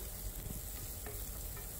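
Chopped onions sizzle and crackle in hot oil for a paneer kurma, a steady, dense frying hiss with faint stirring, moderately close and alone.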